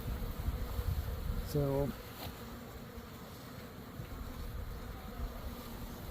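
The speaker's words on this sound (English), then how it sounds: "this is what a package of bees looks like. It's just a box with a whole bunch of bees in it." Honeybees crowded in a shipping package box give off a dense, steady buzzing hum throughout, while a voice speaks briefly near the start and a louder buzzing swell rises around two seconds.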